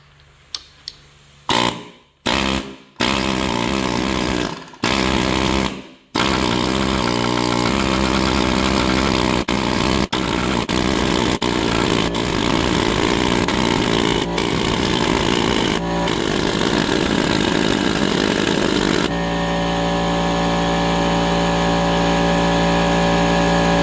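A loud rotary hammer drill with a hammer attachment, used on masonry edging, roars steadily after a few stop-start bursts, droning without pause until it shifts to a lower, rougher hum near the end.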